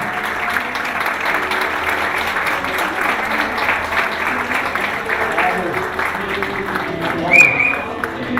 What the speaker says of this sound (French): Des applaudissements s'il vous plaît pour les encourager tout le monde.